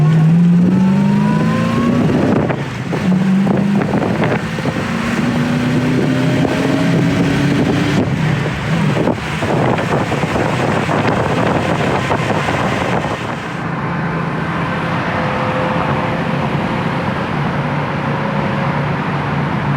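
A 1965 Ford Mustang Convertible cruising down the road, a steady engine drone with gear-change pitch sweeps, rushing wind noise and tire roar, loud and continuous with no talking.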